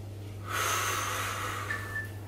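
A single sharp inhale through the nose during a slow core workout, a brief breathy rush that swells and fades over a low steady hum, close to the microphone.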